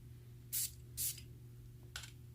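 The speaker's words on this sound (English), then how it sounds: "I'm going to spray the one first on my left hand right here." Three short, sharp sprays from a perfume bottle onto a hand, two close together and a third after a pause, against a quiet background.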